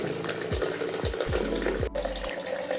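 Water pours steadily onto coffee grounds for cold brew, a constant splashing flow with a few low knocks and a brief break near the end.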